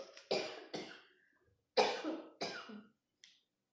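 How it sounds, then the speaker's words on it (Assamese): A woman coughs several times in close, harsh bursts, two quick pairs separated by a pause, ending in a faint short throat-clearing sound, with no talk. "সৰি দে মোৰ কাহটো আহি গৈছে"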